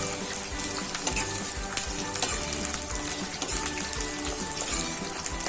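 Dense, continuous crackling sizzle of stuffed spiny gourds frying in oil in a large pot, close and fairly loud, with occasional soft clinks and stirring; no one speaks.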